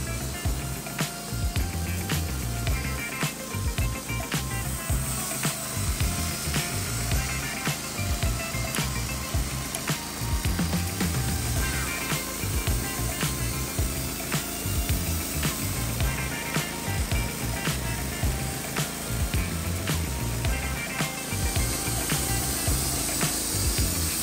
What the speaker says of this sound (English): Wood Miser LT15 is being used by this hot girl to saw large tree stumps into smooth